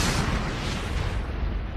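A 200-meter asteroid exploding: one massive, continuous roaring blast that fills the whole clip, close and loud with a deep rumbling body and no voices.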